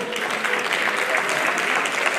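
Enthusiastic applause at a mountaineering awards gala, a dense crowd clapping steadily and fairly loudly for a couple of seconds, with a faint murmur of voices underneath.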